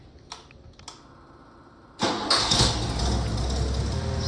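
A homemade drilling machine's motor kicks on after a couple of faint clicks, then keeps spinning with a loud, steady whirring drone that holds until the end.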